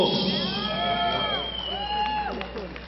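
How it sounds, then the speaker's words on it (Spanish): Crowd applauding and cheering a fighter's ring introduction at an MMA event in Bogotá: a continuous roar of clapping and shouting from a large indoor audience, with loud whistles and yells rising over the noise. "fuerte el aplauso"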